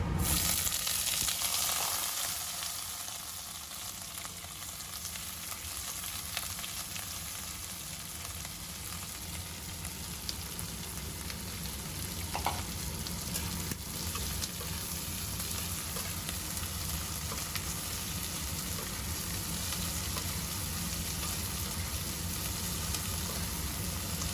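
Chopped onion goes into hot oil where dried red chillies have already fried, giving a loud, continuous sizzle that holds steady and close throughout with occasional faint stirring scrapes.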